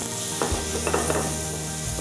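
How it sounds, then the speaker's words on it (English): Liver sautéing lightly in a pan for Czech liver pâté gives a steady, soft sizzle with faint stirring scrapes throughout, close and unbroken, with no talking. "Just lightly saute like this one."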